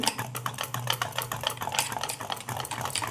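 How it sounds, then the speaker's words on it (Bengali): Baking powder being stirred into a batter by hand, giving a steady run of soft, close scraping and tapping strokes with no talking. "বেকিং পাউডারটা আমি আবারও মিশিয়ে নিই"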